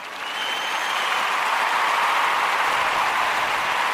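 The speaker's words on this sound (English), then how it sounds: "let's give you a round of applause. If my round of applause ain't broke" Canned applause effect played back through a computer, a dense crowd-clapping wash that swells in over the first half second and holds at an even level with no voices over it.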